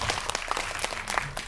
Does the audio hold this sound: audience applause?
yes